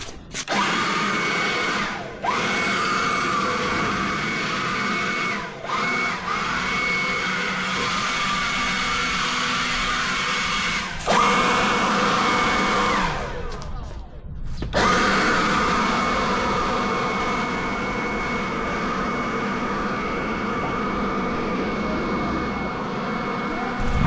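A TOTAL battery-powered electric blower blows grass clippings, a loud steady whirring whine that runs continuously, briefly dropping and restarting a few times.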